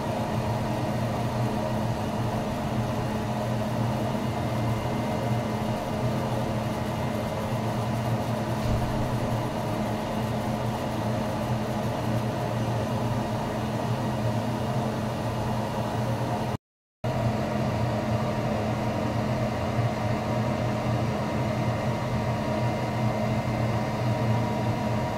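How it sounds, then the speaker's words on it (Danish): A laser cutter engraves and cuts a workpiece under a steady, loud mechanical hum with fan-like noise, unchanging for the whole stretch apart from one brief dropout. "Den bør altid starte med at gravere emnet, inden den skærer det."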